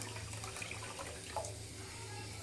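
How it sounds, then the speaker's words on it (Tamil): Water pours and splashes into a pot of Karnataka-style sambar, a soft steady trickle under a low kitchen hum. "நான் இன்னும் கொஞ்சம் தண்ணி ஊற்றிக்கிறேன்."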